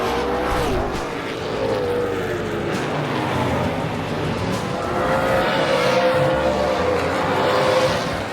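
NASCAR Canada stock cars racing at Riverside Speedway in Antigonish, Nova Scotia, a steady loud roar of engines sweeping past with shifting pitch throughout, no talk.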